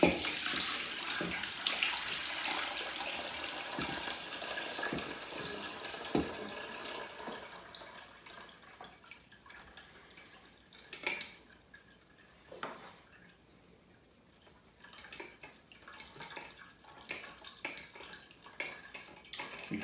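Whey drains and splashes as cheese curd is strained, with a strong pouring rush at first that settles into softer trickling and scattered drips, close by and without speech.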